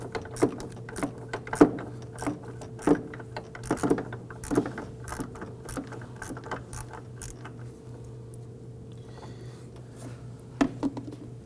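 A 1/4 inch ratchet turning a nut on a 2008-2011 Ford Focus during brake master cylinder replacement, giving bursts of close, light clicking strokes in an irregular rhythm, fading to quiet toward the end.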